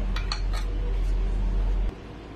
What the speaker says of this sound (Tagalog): So, haluin na po natin yung ating niluluto.